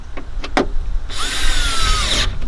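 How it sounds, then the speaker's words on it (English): A power tool drives screws on a VE Commodore door lock actuator mechanism, a single continuous whirring run of about a second after a few brief clicks and knocks. "We can tighten up these screws here like this."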